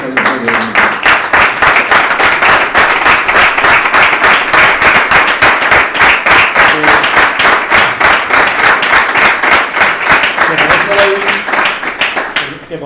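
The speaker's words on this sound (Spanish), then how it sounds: "daros un aplauso grandísimo porque os lo merecéis" Sustained, loud applause from a large audience at a talk on mining and environmental impact, dense clapping running steadily throughout before tapering slightly at the end.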